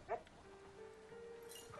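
A dog in Uncharted 4 gives a short, quiet bark followed by a faint whimper and soft yip, close by against a low background hum.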